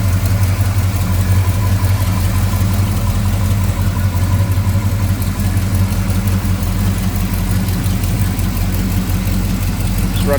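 A 1955 Chevrolet 210 V8 with Edelbrock carb and intake, headers and HEI ignition idling close up, a loud, steady, smooth low rumble throughout with no talking.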